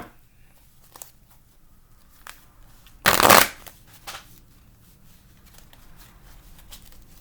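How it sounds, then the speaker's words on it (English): Oracle cards shuffled close up as one brief, loud riffle in an otherwise quiet room, with a few light taps and handling noises around it. "Let me get some of these oracle cards."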